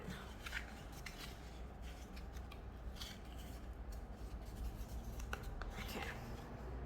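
Scissors snip through paper for a fall circle tree art craft, a few faint, quick cutting rasps at close range over a quiet, noisy background with some soft voice traces.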